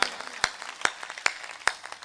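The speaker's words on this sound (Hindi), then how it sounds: "एक बार तालियां बजाओ मस्ती में" Audience clapping at a Hindi stand-up comedy show, with about five sharp, evenly spaced claps or short bursts standing out over a faint, rustling room.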